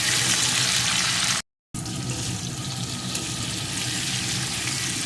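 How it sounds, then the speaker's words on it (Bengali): Potatoes frying with chopped tomato and green chillies in a pan give a steady, broadband hissing sizzle that runs throughout, broken once by a brief gap of silence. "এর ভিতরে দিয়ে দেবো একটা টমেটো কুচি আর কয়েকটা চেরা কাঁচা লঙ্কা ঝালটা আপনারা যে যার পছন্দ মতন দেবেন এখন এগুলোকেও আলুর সাথে একটু ভেজে নেব"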